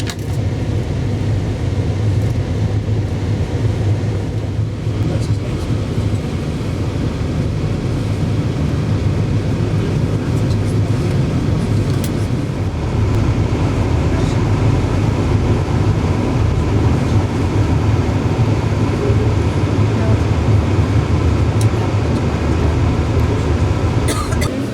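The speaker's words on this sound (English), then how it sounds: "two locos haul a heavy freight train" Diesel locomotives drone steadily as they haul a freight train, a constant low engine rumble that swells slightly toward the end.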